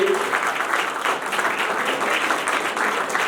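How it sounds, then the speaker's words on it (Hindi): A hall audience applauds loudly for an invited guest at a Hindi-language success talk event, a dense, steady wash of many hands clapping throughout with no pause. "तो एक बार जोरदार तालियों में विवेक सर के लिए"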